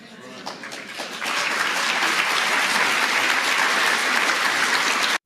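Navy SEALs applauding as an audience, the clapping starting thin and scattered, then swelling after a second into a loud, dense, sustained ovation that cuts off sharply at the end.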